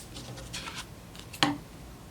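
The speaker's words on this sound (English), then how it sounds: "take your scissors and put a little cut on each of your marks." A single sharp scissor snip cuts a small notch at a marked point while making a woven yarn coaster, close and brief against quiet room tone.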